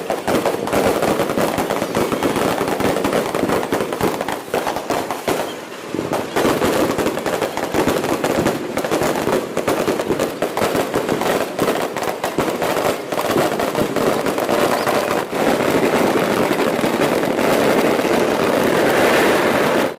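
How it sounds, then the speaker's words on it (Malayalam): Loud, dense fireworks from the sample display at Thrissur Pooram, a Kerala temple festival, crackle and boom nonstop in rapid overlapping bursts for the full duration. "സാമ്പിൾ വെടിക്കെട്ടിൻ്റെ വീഡിയോ എല്ലാവർക്കും ഇഷ്ടമായെന്ന് വിചാരിക്കുന്നു."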